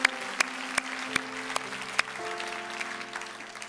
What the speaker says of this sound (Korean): 하나님께 감사와 영광의 박수 드리겠습니다.